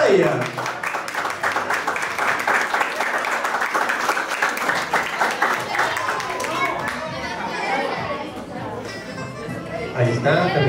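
Applause for a student at a school graduation with cap-crossing: a crowd claps in a dense, lively burst that gradually thins, with chatter and voices rising over it toward the end.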